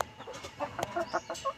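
Backyard chickens clucking in a short run of soft, repeated clucks at moderate distance, with faint bird-like calls and light background noise.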